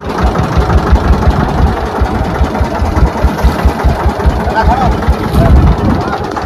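A boat engine on a river chugging loudly and steadily with a rough, knocking rhythm, close by, while people talk over it.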